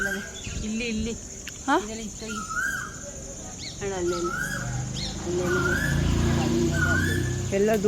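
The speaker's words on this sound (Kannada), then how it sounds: "ಕೋಗಿಲೆ ಕೂಗ್ತಿರೋದು ಆದರೆ" A koel calls repeatedly from a distance outdoors, its rising whistled notes mixed with crickets, other birdsong and faint voices nearby.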